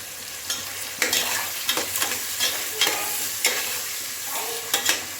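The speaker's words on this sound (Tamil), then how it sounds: "தக்காளி நல்லா வதங்கணும்." Tomatoes sauté in a pan for a chicken biryani made in a pressure cooker, with a steady close sizzle broken by repeated scraping stirs of a spoon against the metal, no voices.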